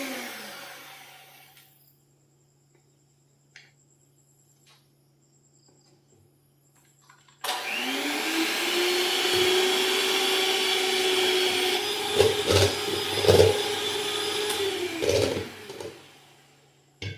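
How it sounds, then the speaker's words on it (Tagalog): A handheld electric mixer blends room-temperature butter for a pineapple upside-down cake, starting after a quiet pause and running as a loud, steady whir for about ten seconds, with a few brief knocks near the end. "blend the butter on a room temperature using a handheld mixer."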